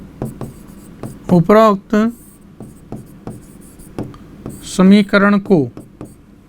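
An equation being written by hand: faint scratchy strokes fill the gaps between a person speaking Hindi in a chemistry lesson.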